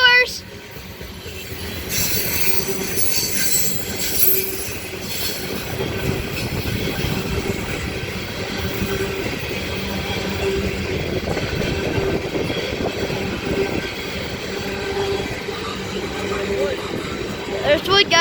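A freight train rolls past with steady rumbling and rattling wagons, intermittent wheel squeal and clickety-clack, while people talk nearby over it.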